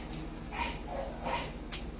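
A dog gives a few short barks and yips at moderate distance, spaced irregularly over a steady low background hum.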